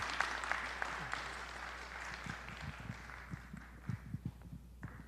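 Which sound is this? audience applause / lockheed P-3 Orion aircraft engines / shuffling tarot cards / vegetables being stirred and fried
audience applause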